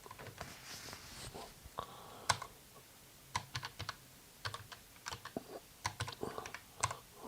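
Computer keyboard typing while entering HTML code: close, irregular bursts of key clicks with short pauses between flurries, heard alone without speech.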